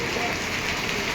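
Heavy rain falls steadily during a violent storm with strong winds in Patepur, a dense, even hiss of water close by that continues without a break.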